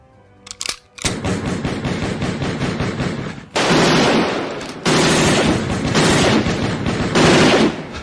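Gunfire in a drive-by shooting on a city street. A few sharp cracks come first, then dense, rapid bursts of automatic fire that go on in long, loud volleys with brief pauses.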